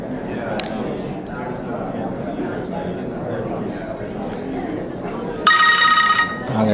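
A BlackBerry phone ringing with an incoming Skype call: a bright electronic ring starts near the end, loud and close, after a stretch of steady background chatter and noise.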